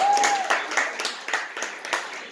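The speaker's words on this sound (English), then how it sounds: "Super Team, clap for her." Audience applause for a performer at a live event, a steady patter of clapping that swells and fades in small waves, moderately loud and continuous with no voices on top.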